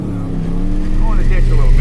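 A 1996 Ford F-350 crew cab engine revs hard while the truck drives through snow and edges into a ditch. The close, loud, rumbling note climbs steadily in pitch over a couple of seconds.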